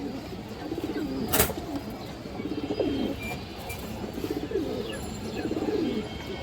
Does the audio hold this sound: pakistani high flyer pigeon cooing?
yes